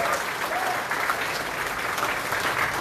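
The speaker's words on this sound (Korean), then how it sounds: "2020 총선 승리 응원단과 다시 한번 뜨거운 박수 부탁드리겠습니다" Sustained, even applause fills a hall at a Korean Liberty Korea Party provincial chapter chairman's inauguration event, a dense steady wash of many hands clapping with no break.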